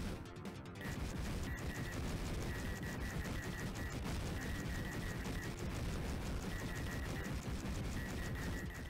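Rapid, continuous blaster fire from the Sega Genesis shoot 'em up True Galactic Mission runs dense and unbroken beneath a bright repeating tone, with a short burst of louder game effects at the opening.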